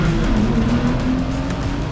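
Porsche race car pulling away at a Porsche Sprint Challenge race start: loud, close engine roar holding a steady droning pitch, with tyre and road noise and other cars around, continuous throughout.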